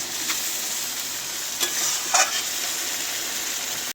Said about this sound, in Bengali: অনেকক্ষণ ধরে মশলাটাকে কষাচ্ছি